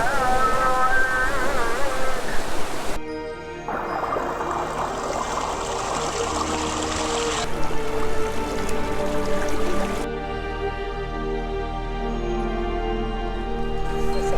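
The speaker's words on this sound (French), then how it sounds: "de l'eau qui coule dans les autres bassins" Water runs into the travertine terrace pools at Pamukkale in Turkey, a steady trickling flow beneath prominent tonal background music that shifts through several sections.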